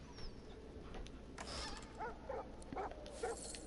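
Dogs in the video game Divinity Original Sin 2 whimper and yip softly in a few short bursts over steady background game ambience.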